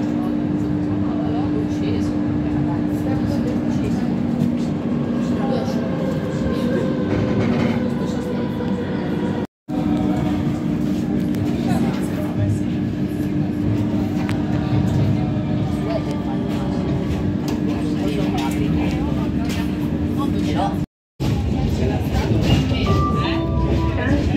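Free airport shuttle train pulling into the terminal at Sofia airport, a steady interior rumble with a sustained hum and rattling carriage noise throughout, interrupted by two brief drops to silence.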